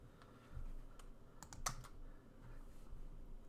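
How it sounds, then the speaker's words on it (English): Computer keyboard return key pressed while editing text in Google Docs, a few quiet close clicks with one sharper keystroke in the middle. "click after this last letter and hit return"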